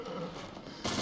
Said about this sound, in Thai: มีเสียงปืนยิง